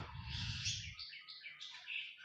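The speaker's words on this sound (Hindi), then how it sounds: "हल्की हल्की पक्षियों की चहचहाहट।" Light, high bird chirping and tweeting in a quiet snowy outdoor setting, several small calls overlapping softly, with a brief low rumble at the start.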